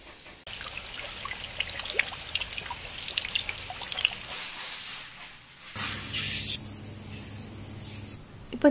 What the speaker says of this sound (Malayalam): ഇപ്പോൾ ഞാൻ ജസ്റ്റ് വെള്ളത്തിൽ ആ ഹെന്ന ഒന്നും തലമുടിയിൽ നിന്ന് കഴുകി കളയുകയാണ്